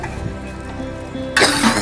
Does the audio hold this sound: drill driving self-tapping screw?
no